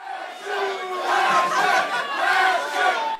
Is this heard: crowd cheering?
yes